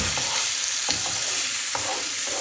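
Food fries in a pan with a loud, steady sizzle and a few soft stirring knocks, alone without any talk.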